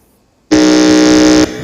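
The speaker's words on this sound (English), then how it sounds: "I would want to do another quick buzzer check." A quiz contest buzzer sounds once during a buzzer check, one loud, flat electronic tone held for about a second before cutting off abruptly.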